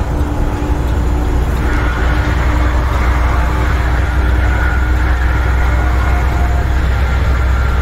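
Steady low engine drone and road rumble from a truck driving on the I-77 highway toward Charlotte, continuous and loud with no breaks.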